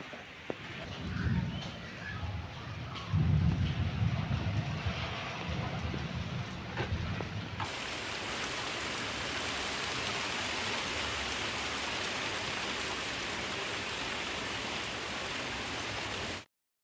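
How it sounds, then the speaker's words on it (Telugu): Rain falls steadily in Hyderabad, a soft, even hiss that grows denser and more uniform partway through and continues without voices. "ఉపరితల ద్రోణి బలహీనపడడంతో హైదరాబాద్తో పాటు తెలంగాణలో పలు చోట్ల వర్షం పడుతోంది."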